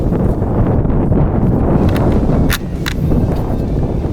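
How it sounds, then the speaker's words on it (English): Wind buffeting a microphone outdoors at a sporting clays shooting range, a steady loud low rumble lasting throughout with a few faint higher ticks. "A little bit of wind."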